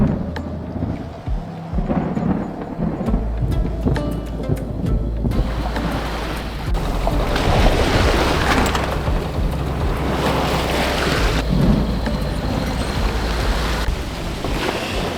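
A squall at sea on a sailing boat off the south of the Dominican Republic brings loud, continuous roaring wind and crashing waves, with deep low rumbles like distant thunder building through the middle.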